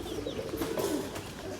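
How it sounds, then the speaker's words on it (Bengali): Pigeons coo softly in a bird shop, a low, steady run of murmuring calls with a faint, higher chirp or two above it and no talking. "এদিকে অনেক কবুতর আছে"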